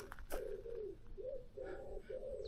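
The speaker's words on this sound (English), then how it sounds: "Wood pigeon in the tree. Can you hear it cooing?" Wood pigeon cooing in a tree, a soft repeated series of low hooting coos at moderate distance, with faint outdoor ambience and no talk.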